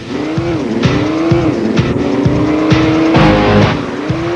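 Racing cars in the PlayStation game Grand Tour Racing '98 give a loud, steady engine whine that rises and falls with gear shifts, with tire squeals and rhythmic thumps, close up and with no talk.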